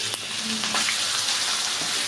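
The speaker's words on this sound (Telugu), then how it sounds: "మనం రుబ్బుకున్న పచ్చడిని ఈ తాలింపులో వేసుకోవాలి." Ground chutney dropped into a hot pan of fried tempering spices, giving a loud, dense, continuous sizzle that fills the brief moment, close up with no voices.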